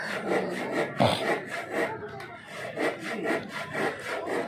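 A hand saw rasps through wood for a wooden cart in steady back-and-forth strokes, close and fairly quiet, about two strokes per second.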